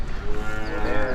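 A bull's moo, a single sustained low bellow with harmonic tone, heard close and fairly loud against a noisy outdoor background.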